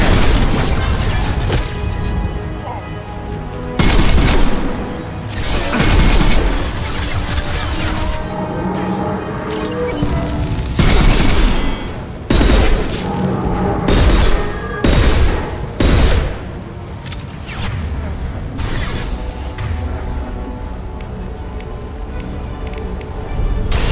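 Sniper rifle shots in Mass Effect 2 Legendary Edition: heavy, booming reports spaced a few seconds apart, loud over a steady, dense game soundtrack.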